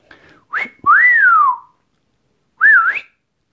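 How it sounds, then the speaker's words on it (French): A person whistles a recall call for a blue-fronted Amazon parrot, three sliding notes up close: a short chirp, a long falling whistle, then after a pause a wavering rising call. "je lui ai appris le sifflement de loin"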